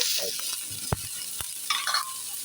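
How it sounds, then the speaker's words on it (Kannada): Onion and grated coconut frying in a pan for horse gram chutney: a low constant sizzle with a few sharp clacks of a spatula against the pan and brief scraping stirs, close up with no voices. "ಫ್ರೈ ಮಾಡಬೇಕು ಚೆನ್ನಾಗಿ"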